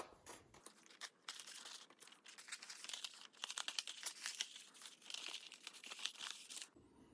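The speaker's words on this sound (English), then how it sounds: "I'm gonna put a few pieces of tape on this." Close, quiet crinkling and tearing of tape pieces being pulled off and pressed onto a folded structural shape, a busy run of crackles and rips with no voices.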